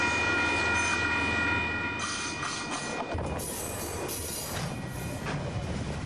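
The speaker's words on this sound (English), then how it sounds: "Hurtling through Ngaruawahia, the train nearly blows us and our tripod over." A train hurtles through the town of Ngaruawahia, a steady, loud rumble of rail cars and wheels passing close by, with rising hiss and clatter as the carriages rush past.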